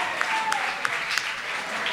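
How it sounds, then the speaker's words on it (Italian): An audience applauds steadily for a row of flags during an Italian sports talk show, a dense, even wash of clapping with a few sharper claps standing out, fairly distant and sustained. "E allora facciamo un applauso, applauso a queste bandiere."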